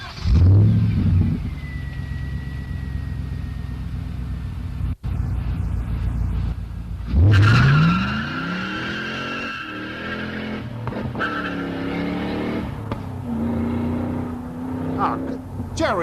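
A car peels out with squealing tires and a revving engine, followed by more engine and tire noise, all mixed with people talking loudly over it.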